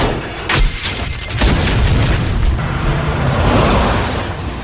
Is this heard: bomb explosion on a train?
yes